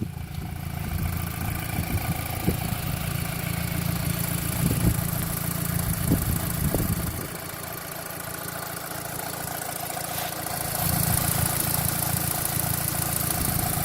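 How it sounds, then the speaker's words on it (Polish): A 2005 VW Golf V GTI 2.0 TFSI engine idles steadily with a low, even hum and light ticking, heard up close under the open hood; the tone shifts slightly partway through. "dosyć charakterystyczny dźwięk pracy tego silnika"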